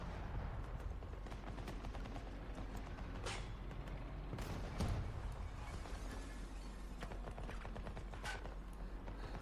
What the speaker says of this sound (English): Can't see where they're shooting from.